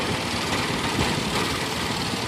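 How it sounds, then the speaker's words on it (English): An antique tractor with a submersible engine, running on kerosene and water after a gasoline start, runs loud and close with a steady, rough rumble. "It's one of your first submersible engine tractors after the steam engine."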